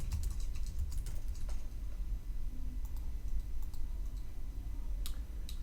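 Quick, light keystrokes tap away on a computer keyboard in sparse irregular clicks over a constant low rumble of room noise, with no voices present.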